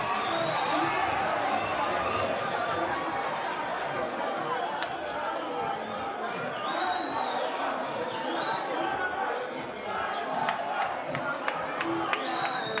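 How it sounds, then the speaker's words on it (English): A boxing arena crowd at a bar-style venue, with a big travelling fan base, keeps up a steady roar of cheering, chatter and shouts throughout, dense and continuous at moderate distance. "And the crowd are enjoying it as well."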